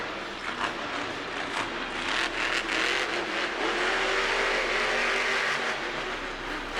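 Engine of a monster truck at a Monster Jam show in St. Louis, roaring steadily through a sky wheelie, with revs swelling amid a dense arena crowd din.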